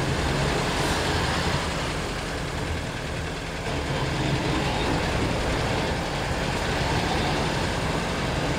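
Busy road traffic in Cebu City, Philippines: a dense, continuous wash of engines and passing vehicles, steady and fairly loud with no talk.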